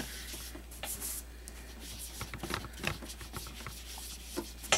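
Soft scratchy rubbing and swishing of a sponge dauber swirling ink on paper, in short irregular strokes and swirls, quiet and close with faint background hum.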